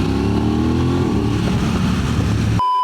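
Suzuki GSX-R sport motorcycles pass close on a group road ride, a loud, steady engine roar with rising and shifting tones that cuts off abruptly near the end.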